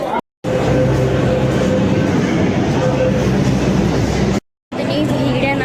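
A crowded metro train rolls along with a steady, loud rumbling roar that fills the space and cuts out briefly twice, while someone talks faintly beneath the noise.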